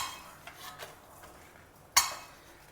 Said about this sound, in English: Now drain them out also onto a plate.